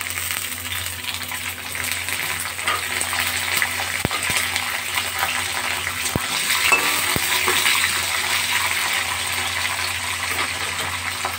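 Gobindobhog rice frying in a pan with cashews and raisins being stirred in, a constant close sizzle and hiss with a few sharp clinks of a spoon against the pan.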